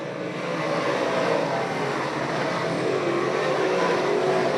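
Modified race cars roar around Can-Am Speedway in a steady, continuous engine drone, moderately distant and sustained as the field works through the turns, with no voices in the clip.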